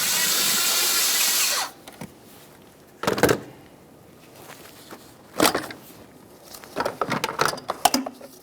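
An air inlet tube clamp on a 2012-2018 Nissan Maxima 3.5L V6 loosened with an 8mm power tool: a loud steady whir for under two seconds, then several short bursts of ratcheting and clanks, no talk.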